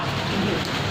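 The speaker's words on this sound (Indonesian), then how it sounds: "Memang hujan dari tadi biasa." Steady rain falls in Palembang, a dense even hiss of drops on surfaces that stays constant through a very short moment, with no voices.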